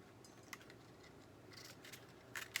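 Scissors cut a thin strip of sandpaper at a guitar repair bench, giving a few quiet, close snips and crisp rasps spread over a couple of seconds.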